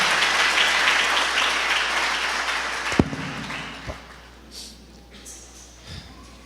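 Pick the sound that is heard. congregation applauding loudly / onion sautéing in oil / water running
congregation applauding loudly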